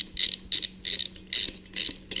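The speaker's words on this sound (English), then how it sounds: "Now it's time to start tightening some nuts down." A ratcheting wrench tightens nuts on an air-cooled VW engine, giving five short bursts of close, quick clicking separated by brief pauses.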